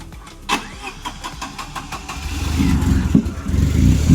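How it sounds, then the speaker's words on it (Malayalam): A Tata car left standing for six months starts up: a few soft clicks and cranking, then the engine catches around the midpoint and settles into a loud, rough idle nearby. "6 മാസം കഴിഞ്ഞതിന് ശേഷമാണ് ഞങ്ങളിപ്പോൾ ഈ വണ്ടി സ്റ്റാർട്ടാക്കാനായിട്ട് പോകുന്നത്."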